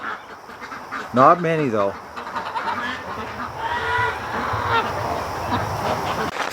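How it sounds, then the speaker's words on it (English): Ducks in a barn: a couple of loud nearby honking quacks early on, followed by softer bird chatter beneath a person talking. "there are some ducks in the barn, wouldn't you know it?"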